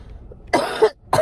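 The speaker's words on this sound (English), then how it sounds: "hold on, I got a cough, and it hurts my back" Two sharp coughs, the first a double burst, the second starting just after a brief pause, close to the microphone with no talking.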